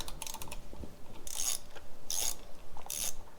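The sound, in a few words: removing bolts from a 2020 Honda Grom motorcycle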